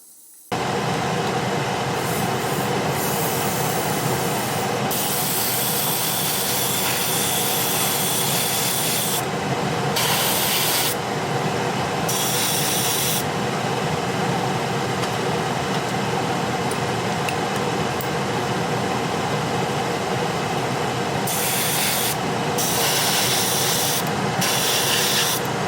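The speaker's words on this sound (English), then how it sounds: "So I'm going to load up my airbrush here, get suited up, and I'll do these wheels up here" An airbrush sprays paint onto the road wheels of a 1/48 scale M1A2 Abrams tank model, giving a steady, loud hiss that runs almost unbroken for the whole stretch, with only brief pauses in the highest band.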